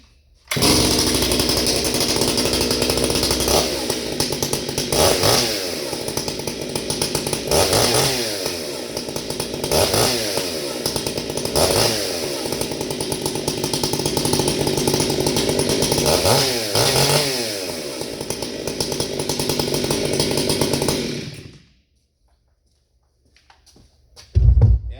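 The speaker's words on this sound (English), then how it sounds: "Damn, I love that chainsaw, boys." A Stihl MS 661 chainsaw with a new chain runs loud and close for about twenty seconds, revving repeatedly as it bites through wood, then cuts out abruptly.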